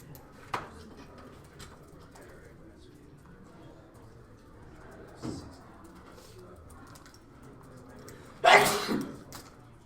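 A single short sneeze bursts out near the end, loud and close, after a quiet stretch with faint background noises.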